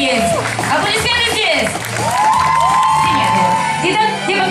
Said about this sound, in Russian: Принимает ваши аплодисменты